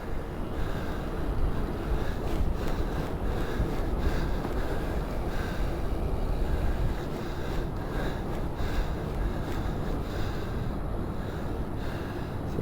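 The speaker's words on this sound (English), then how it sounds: "All right, a little windy" Continuous wind buffets the microphone during a bike ride in downtown Colorado Springs in January, a low rumbling rush that persists throughout with slight gusty swells and no voices.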